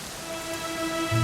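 Rain falls in Dragon Quest XI as a steady, close patter with a faint hum beneath, growing slightly louder near the end with a low thump.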